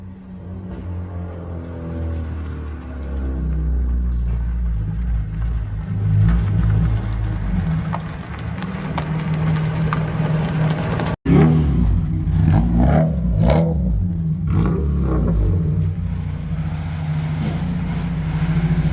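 A car approaches on a cold day and revs, its engine drone building steadily over a long stretch, and a sharp click cuts through midway.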